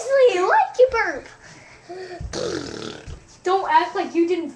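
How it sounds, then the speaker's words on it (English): A young girl lets out a burp between bursts of children's chatter, a short guttural sound in the middle of the talk. "Seriously, why'd you burp?"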